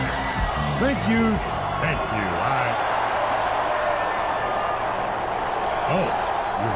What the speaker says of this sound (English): Oh, you're cheering for him.